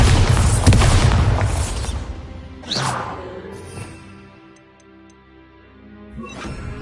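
Bombarda explosion spell in Hogwarts Legacy, a loud booming blast with rumbling debris that slowly fades, followed by softer ticking game sounds and a second smaller burst near the end.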